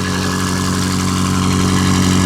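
Close, steady idle of a BMW M5 fitted with catless downpipes, a deep continuous rumble dropping slightly as it settles, with no voices over it.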